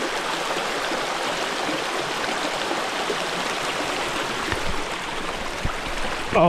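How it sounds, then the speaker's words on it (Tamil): A small, shallow river stream of clear water flows across a trail on the Mahuli Fort trek, a steady close rushing and babbling that continues unbroken, with no voices. "இந்த ரிவர் ஸ்ட்ரீமை தான் நம்ம இப்போ க்ராஸ் பண்ணி போகணும்."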